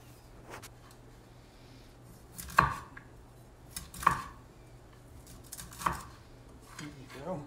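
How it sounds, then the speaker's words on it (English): Knife chopping fresh broccoli on a cutting board, three distinct sharp cuts spaced a second or two apart over a quiet kitchen hum, with softer knocks and handling between them. "what I'll do is cut some broccoli"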